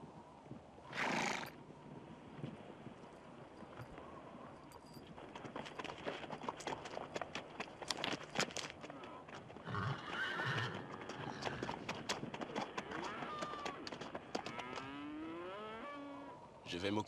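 A horse whinnies loudly and close by in a western ranch setting, followed by steady clip-clopping of hooves and scattered cattle lowing, with a longer neigh rising near the end.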